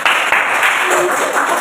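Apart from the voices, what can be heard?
classroom applause for group 1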